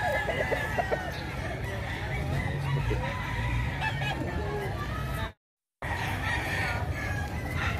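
Fighting roosters crow and cluck among crowd chatter at a gamecock market in Bocaue, Bulacan, the calls rising over continuous babble before a brief dropout to silence.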